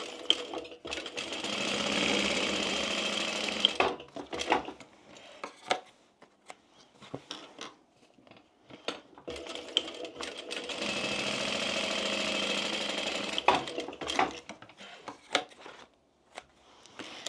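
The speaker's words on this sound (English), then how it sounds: "I'm going to put both of these right sides together and sew down these 2 short ends." A sewing machine runs in two long steady stitching passes along the short ends of a fabric gift bag, close and even, with brief handling clicks and pauses between runs.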